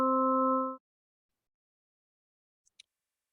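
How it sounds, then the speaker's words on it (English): A synthesized tone of five harmonics with the third removed plays once, steady and clean for under a second, followed by silence and two tiny faint clicks. "We'll then consider a tone where we completely delete the 3rd harmonic, producing a tone like this."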